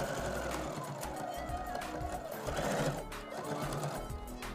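A sewing machine hums and stitches steadily through a fabric chair cover with bias binding, its motor whirring continuously at close range with brief shifts in pace as it backstitches.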